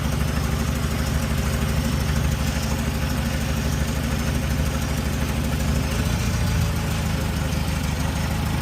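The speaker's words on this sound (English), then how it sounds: "Look at what happens when I unplug number 3. Really bad misfire." A forklift engine running rough with one ignition coil unplugged, a steady loud mechanical drone with uneven knocking pulses and a shift in tone near the end, no talking.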